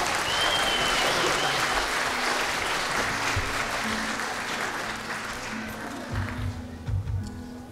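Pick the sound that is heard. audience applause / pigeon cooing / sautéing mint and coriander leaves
audience applause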